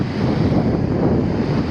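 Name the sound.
ocean waves washing up the beach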